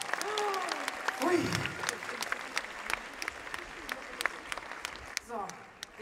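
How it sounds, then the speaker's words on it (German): A crowd at a 25 Years of Harry Potter fan event in Hamburg claps and cheers steadily, with a voice speaking briefly over the applause near the start and another short exclamation toward the end. "Nochmal einen riesengroßen Applaus"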